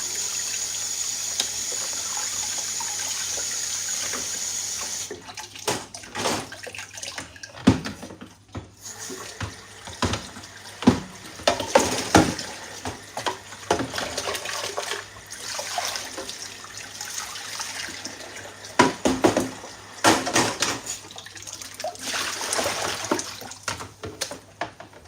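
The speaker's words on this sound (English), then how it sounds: "I'm just going to rinse off my blender." Blender rinsed under a running kitchen tap, first a steady hiss of flowing water, then irregular splashing, gurgling and knocking bursts as the jug is swirled and handled under the stream, close and moderately loud.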